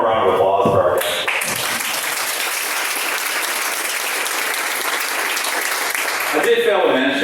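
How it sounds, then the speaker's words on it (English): Guests at a meeting get a sustained round of applause from the room, steady and loud for roughly six seconds, with brief voices at the start and end. "Let's have one more round of applause for our guests."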